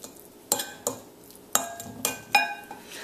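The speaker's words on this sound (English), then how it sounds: "I've got a fork, and I'm just going to give this press just to break it up into bigger" A fork presses down and breaks up cleaned sardines in a dish, giving a handful of light clinks and scrapes spaced about half a second apart, close and fairly quiet.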